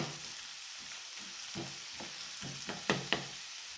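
Onion frying in a pan for egg bhurji gives a constant near hiss of sizzling oil, with a few spatula scrapes and two sharp taps near the end, no voices.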